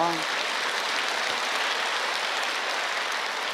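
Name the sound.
congregation applause in church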